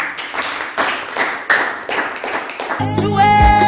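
A church congregation claps for Jesus during a sermon, a sustained burst of overlapping hand claps, loud and close, with a sung or sustained musical tone joining near the end.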